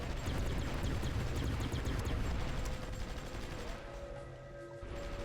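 Sustained infantry gunfire in the strategy game Supreme Ruler Ultimate, during a battle near Boston: a dense, continuous crackle of rifle and machine-gun shots with no pauses, loud throughout and thinning slightly toward the end.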